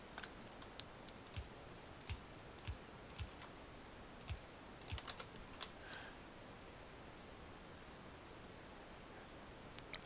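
A loud non-mechanical computer keyboard is typed on in irregular bursts of sharp, close clicks and taps, alone and fairly quiet, with short pauses between runs of keystrokes.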